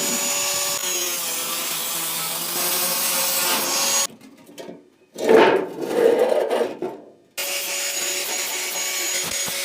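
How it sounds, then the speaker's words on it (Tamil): A file rasping along the sharp cut edge of a metal rusk tin, with steady, close, continuous scraping strokes that break off briefly midway, then return in a short burst and resume. "இப்போ நம்ம கட் பண்ண அந்த ஷார்ப் எடுத்து நல்லா தேய்ச்சி எடுத்துக்கிட்டேன்"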